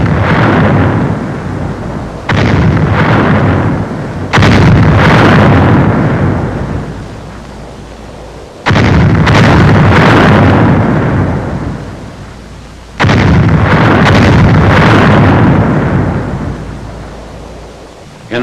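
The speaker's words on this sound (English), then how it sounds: "Final shelling of the town is directed by the 7th Field Artillery Observation Battalion." Heavy WWII artillery shelling of the town of Metz in 1944: loud, deep rolling booms, several separate blasts each swelling and then slowly fading over a continuous rumble.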